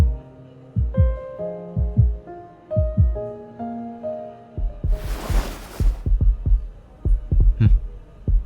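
Heartbeat sound effect from the game Love & Deepspace: a regular lub-dub thumping, loud and close, steady at first, then a burst of soft rushing noise before the beats quicken.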